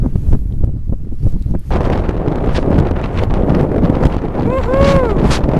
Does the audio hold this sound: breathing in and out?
no